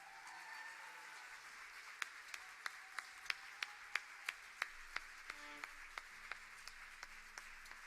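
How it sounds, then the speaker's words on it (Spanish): Sparse, quiet clapping for a saxophonist at a live concert, a few distinct claps standing out in a regular run over a soft room murmur, with faint tones sounding beneath. "un aplauso muy fuerte para Manuel García"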